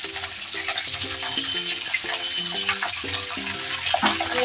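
Cauliflower and potato pieces, with bay leaf, sizzle in hot oil in a pan, making a constant hissing fry under steady background music throughout.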